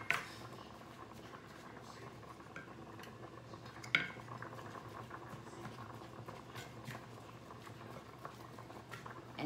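Ground hamburger meat is broken up in a pan: a soft, faint sizzling patter with occasional sharp utensil clicks and scrapes, two of them standing out.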